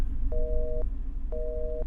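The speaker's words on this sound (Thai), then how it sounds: "ตอนนี้มีแต่โทรศัพท์เนี่ย รับโทรศัพท์แป๊บ" Telephone tone in the Roblox horror game The Intruder: two evenly spaced, steady beeps about a second apart, each lasting half a second, ringing clearly over a low background hum.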